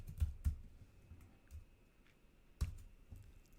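Someone types on a computer keyboard in a quiet room, a few sparse, faint key clicks spaced irregularly over a few seconds.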